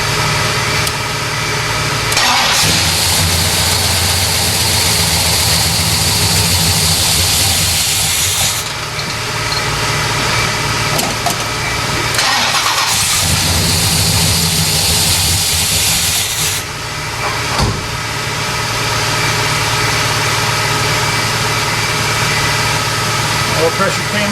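A Pontiac 455 V8 in a LeMans churns and rumbles loudly, with surges, hissing, and steady idling stretches; someone talks briefly over the mechanical noise.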